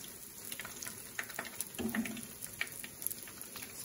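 Uštipci, fried dough fritters, crackle and pop softly in hot oil, a faint, steady patter of small sizzles with scattered louder spits.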